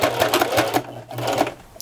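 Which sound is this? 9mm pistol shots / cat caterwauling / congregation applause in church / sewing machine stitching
sewing machine stitching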